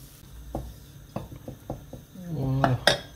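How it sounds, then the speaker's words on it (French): A utensil clinks and scrapes against a pan while a butter and flour roux is stirred, in a series of sharp taps, then a soft sizzle builds toward the end. "Le beurre a fondu. Et la farine. On va faire notre petit roux."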